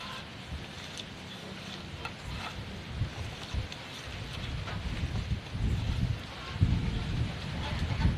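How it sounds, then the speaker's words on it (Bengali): Steady rain falls over a village during a multi-day downpour, making a dense wash of patter with low rumbles and gusty swells that grow louder toward the end. "আমাদের এখানে সকাল থেকে বৃষ্টি শুরু হয়েছে আরও নাকি তিন চার দিন থাকবে"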